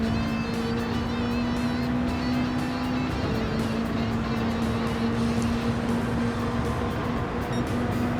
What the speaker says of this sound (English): You need a fast car that can take off quick.